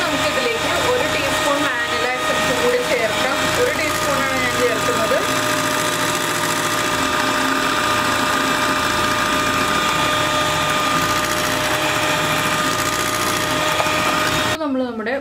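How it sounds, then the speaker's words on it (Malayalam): An electric hand mixer whirs at high speed as it beats eggs and sugar for a vanilla sponge cake, producing a continuous close-up buzzing whine with a voice speaking over it. "ഇനി നമുക്ക് സ്പീഡ് കൂട്ടിയിട്ട് ബീറ്റ് ചെയ്യാം."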